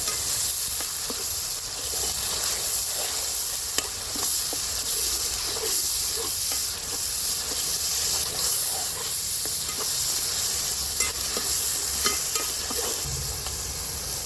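Onions frying in oil for a sea fish iguru curry keep up a constant, loud hiss and sizzle, dotted with small pops and light stirring scrapes throughout, with no talk.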